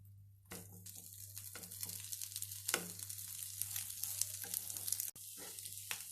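Potato is stirred with spice powders, including garam masala, cumin and turmeric, in a pan for samosa filling. A faint background hum runs under a series of soft scraping, sizzling strokes with brief gaps between them. No one speaks.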